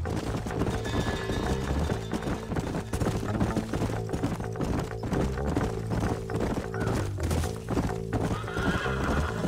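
Horses in the Red Dead Redemption video game, loud rhythmic hoofbeats of galloping mounts with repeated neighs and whinnies over a music bed, close and continuous.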